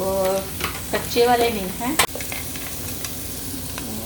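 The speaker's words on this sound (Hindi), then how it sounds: "तो अभी इसमें जाएंगी हरी मिर्चें, और साथ में थोड़े से काजू भी डाल लें।" Green chillies and cashews stir-frying in a pan give a continuous sizzle with scraping stirs, while a voice talks over the first half and a sharp clack sounds midway.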